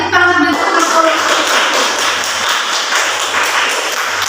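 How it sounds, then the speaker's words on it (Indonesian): A classroom of students claps together, a steady dense patter of hands that holds for several seconds, loud and close, with a brief spoken voice at the very start. "Beri tepuk tangan dulu"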